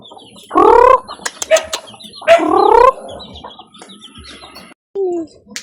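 Chickens cluck and call close by in short harmonic bursts, with several loud squawks spaced over a few seconds amid faint background clatter.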